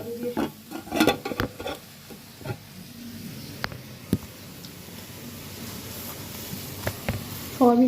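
Onion, ginger and garlic go into a pan for a soybean and potato curry, with an intermittent sizzle and stirring scrapes, clattering bursts early on and a lower hiss underneath, with no voices.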